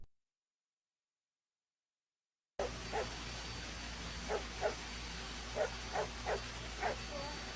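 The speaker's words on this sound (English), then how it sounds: "Wrigley barks at Gary but gets no response." After a stretch of silence, a dog barks repeatedly at a distance, short sharp yips in an uneven rhythm over a low background hum.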